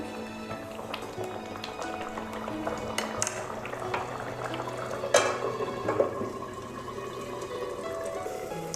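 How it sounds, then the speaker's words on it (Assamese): Hot water poured into a pot of simmering taro greens, a steady liquid rush and bubbling running throughout with a few brief clanks from the pot. "এই গৰম পানীটো অলপ ঢালি দিছোঁ"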